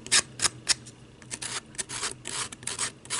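A regular fingernail file rasps against the edges of a handmade Scottie dog Christmas ornament, close and fairly quiet, in quick irregular strokes with a few sharper bursts.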